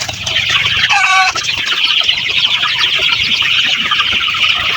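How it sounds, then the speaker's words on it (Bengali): Sonali super hybrid chickens on a poultry farm, 43 days old, make a dense, constant clucking chorus close by, with a brief louder squawk from one bird near the start. "আমরা বড় দেখে একটা মুরগি ধরে নিয়েছি।"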